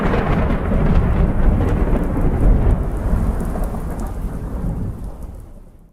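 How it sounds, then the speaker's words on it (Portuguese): Thunder rolls in a long, deep rumble over steady heavy rain, loud and close, fading toward the end with no voices. "o trovão, que é o som que ouvimos algum tempo depois do raio."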